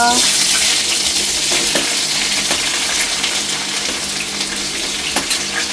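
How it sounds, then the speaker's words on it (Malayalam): Sliced onions hiss and crackle as they fry in a pan of oil for chicken curry, a steady close sizzle running throughout with a few sharper pops. "അതിലോട്ട് സവാള ഇടുക."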